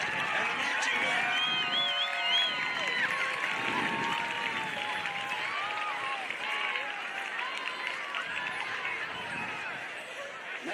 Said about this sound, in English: Let's have another round of applause for Mr. Chris Booty and the marching band.